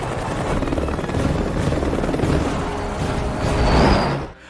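An emergency helicopter on a hospital rooftop makes a steady, loud rotor and engine roar. The roar holds throughout, then swells briefly near the end before cutting off.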